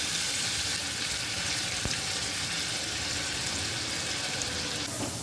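Chopped garlic and ginger fry in oil and butter with a loud, continuous sizzle and hiss, broken by a single sharp tap partway through.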